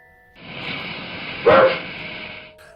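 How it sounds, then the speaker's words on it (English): One sharp dog bark cuts through a hiss of background noise, close and loud, inside a house. "Maurice Grosse and the Hodgsons frequently heard barking inside the house"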